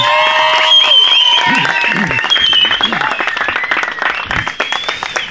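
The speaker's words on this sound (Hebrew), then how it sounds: "גם הזה אפשר למחוא כפיים כמובן" Guests at a wedding ceremony clap close and loud, a thick stream of hand claps over music and overlapping voices.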